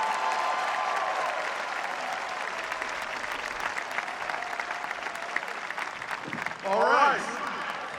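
Commencement audience at a 2012 Hampton University ceremony gives sustained, dense applause welcoming the mayor, a steady roar of clapping throughout with a brief swell near the end as someone speaks.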